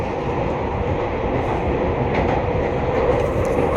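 A London Underground District Line train rumbles along from inside the carriage, a steady loud broadband roar of wheels and motor with faint rattling and no voices.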